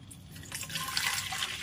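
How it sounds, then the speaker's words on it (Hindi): Water is poured into a spray bottle, about a litre of plain water, a short steady splashing trickle heard close up with no voices. "हमने इस बोतल में पानी को भर लेना है"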